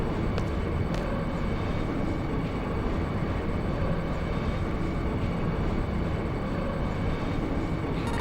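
A train in the game Final Fantasy VIII rumbles on in a loud, steady low drone with a constant rolling hum and faint clanks, unbroken from start to finish.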